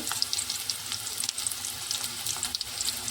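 Chopped onions and green chilies sizzle in a pan of hot oil for mutton gravy curry, a steady crackling fry with scattered pops, close and moderately loud, no voices.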